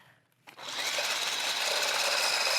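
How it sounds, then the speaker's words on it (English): Electric mixer with a whisk attachment whirring steadily as it blends a banana chocolate protein shake, switching on after a brief quiet moment and running loud and continuous. "Take our whisk attachment, put it on, and start to mix again."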